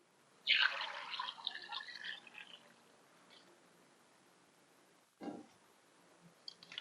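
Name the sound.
washing mangoes in water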